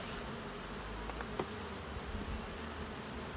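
Honey bees swarming over a frame from a multi-queen hive, a dense steady buzzing hum close up, with no talking.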